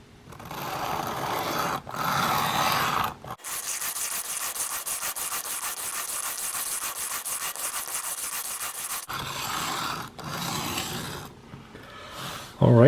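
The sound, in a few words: knife sharpening on a 400 grit stone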